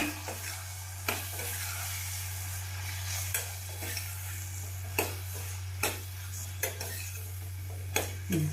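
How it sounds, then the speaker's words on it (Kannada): Spoon stirring garlic paste, garam masala and salt in a sizzling pan for pigeon peas fry, several sharp scraping clinks at uneven intervals over a constant low frying hiss and hum. "ಬೆಳ್ಳುಳ್ಳಿ ಪೇಸ್ಟು ಗರಂ ಮಸಾಲ ಮತ್ತು ಸ್ವಲ್ಪ ಉಪ್ಪು ಚೆನ್ನಾಗಿ ಮಿಕ್ಸ್ ಮಾಡ್ಕೊಳ್ರಿ"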